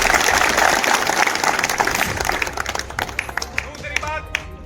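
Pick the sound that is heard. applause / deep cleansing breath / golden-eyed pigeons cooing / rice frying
applause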